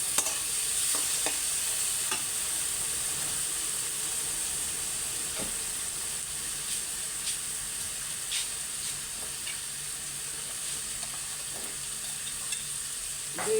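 Mushrooms fry in a pan while being stirred, a steady close sizzle with scattered scraping clicks and ticks throughout, no voices.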